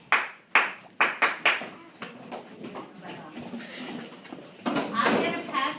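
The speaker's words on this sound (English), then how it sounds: "So when I clap, you're going to move." Sharp hand claps in a classroom ring out as a signal for children to move, a quick cluster of several loud, close claps, then softer shuffling, with a voice talking near the end.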